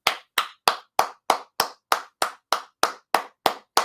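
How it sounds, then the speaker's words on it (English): One person claps hands thirteen times in a steady, even rhythm, each clap sharp, close and loud with silence between, alone without any talk. "I'm gonna go ahead and give myself a hand clap on that"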